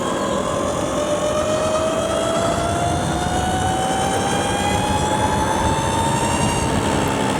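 An upgraded 72v electric mini moto is ridden, putting out a steady, loud electric motor whine that rises slowly in pitch as it speeds up, over constant wind and road rush, close by, with no voices.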